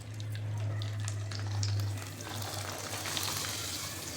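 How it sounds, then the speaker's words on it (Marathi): Poha papad fry in hot oil, a faint, steady bubbling crackle under a low hum, with no voices. "आता तळून बघूया."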